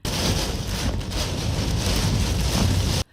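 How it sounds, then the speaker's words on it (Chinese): Gale-force wind and driving rain lash the coast near Jinlun Bridge in Taitung, Taiwan, during a storm with huge waves, a dense, steady roar filling the air without a break and no voices. "同样狂风暴雨的还有这里"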